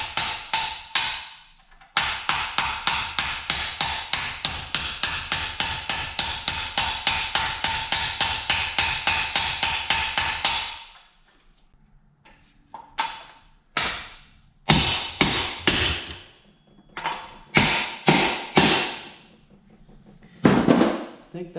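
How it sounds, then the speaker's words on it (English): A brass hammer taps an engine part into place during LTZ400 engine work: a long run of rapid, evenly spaced, close metallic strikes, then a few scattered knocks and handling noises. "I'm going to use a brass hammer"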